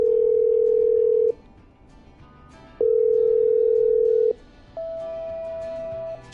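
Phone line tones in the game Killer Frequency as a call is patched through: two long steady buzzing tones with short gaps, then a higher thinner tone, over faint background hiss.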